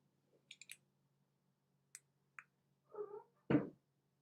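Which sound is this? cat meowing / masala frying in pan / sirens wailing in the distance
cat meowing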